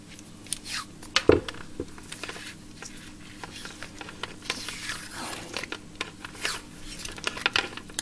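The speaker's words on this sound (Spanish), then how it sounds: "Lo único que hacemos es darle un toque de cinta aislante para que quede todo" Electrical insulating tape is wrapped around wires on a recycled car bulb battery tester, giving close, irregular rubbing and crinkling with small sticky peeling sounds and a louder handling bump early on.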